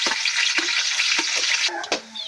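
Garlic and onion hit hot oil together in a pan, giving a loud, steady bright sizzle broken by a few sharp stirring knocks, with no talk.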